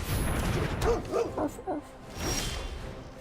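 A dog-barking sound effect triggers for the Alpine Watchdog card in MTG Arena, giving a short run of yips and woofs under game noise, brief and fairly close.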